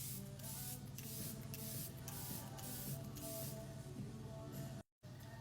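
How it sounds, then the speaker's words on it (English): Charlotte Tilbury setting spray misted over freshly applied makeup, a run of short pressurised hissing bursts in quick rhythm, close and soft, ending in a brief pause. "now I'm gonna set all my wet products with the Charlotte Tilbury setting spray"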